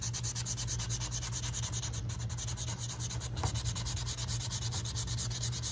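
Sandpaper rubs rhythmically across an old wooden golf driver head, roughly 100 years old, in steady close back-and-forth strokes, with no talking.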